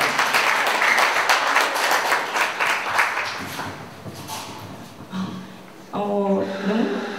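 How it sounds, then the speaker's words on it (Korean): A festival audience claps loudly for a few seconds before the opening speech, the applause fading out, and then a speaker begins talking. "큰 박수 부탁드립니다."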